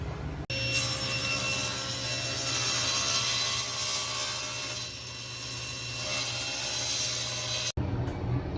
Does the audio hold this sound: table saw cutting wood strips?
yes